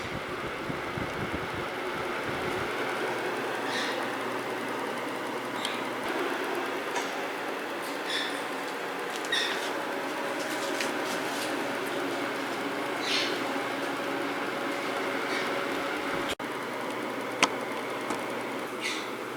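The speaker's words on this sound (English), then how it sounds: "this is the sound on the high setting" Honeywell HEV320WC cool mist humidifier running on its high setting, a steady broadband fan whoosh that holds evenly throughout with occasional faint clicks, nearby and moderately quiet.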